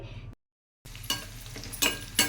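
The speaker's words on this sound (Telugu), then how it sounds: "ఇదిగోండి పోపు పెట్టుకున్నాను ఉల్లిపాయలు ఎల్లుల్లిపాయలు పోపు దినుసులు" Spices for tempering and chopped onions with garlic fry in a pan for Andhra sambar, a steady close sizzle with stirring bursts, broken by a brief silent gap.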